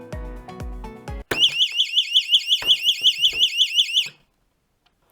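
An active fire alarm sounds a rapid, pulsing electronic whoop, loud and close, for about three seconds before cutting out, preceded by a few short tonal beeps.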